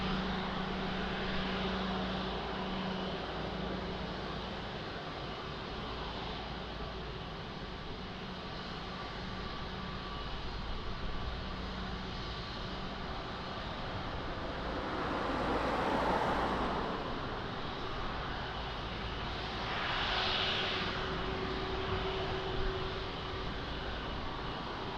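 A passenger airplane approaches to land on runway 02 at Lisbon Airport, its engine roar a steady distant rumble that swells briefly louder near the middle, with a faint radio voice early on.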